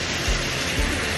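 Steady rain falls at night on a roadside outpost near Ormanjhi on the way to Ranchi, a dense continuous hiss with two faint low thumps, no voices.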